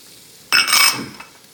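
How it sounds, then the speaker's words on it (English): A brief scrape and clink of a utensil stirring ingredients into butter in a cooking pan, one short bright burst that fades quickly, with no talking. "we're going to stir that in and incorporate that with the butter"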